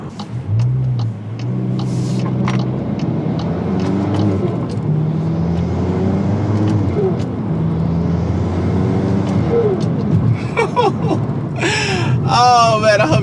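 A Volkswagen MK8 Golf R with a new intake revs and rumbles as its turbo builds boost, then releases it with sharp whooshing blow-off bursts near the end. Someone talks over the engine throughout.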